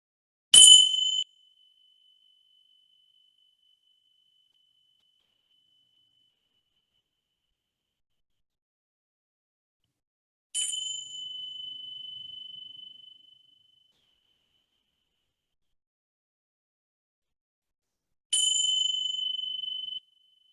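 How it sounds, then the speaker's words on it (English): Tingsha bells struck three times at long intervals, each a bright clear metallic ring that decays slowly into silence in a quiet room, no voices. "I'm going to ring the tingsha bells"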